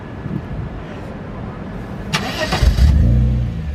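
A custom car with an aftermarket exhaust at a street car meet in Memphis rumbles low, then is revved in a short burst near the end, loud and close, with people talking faintly around it.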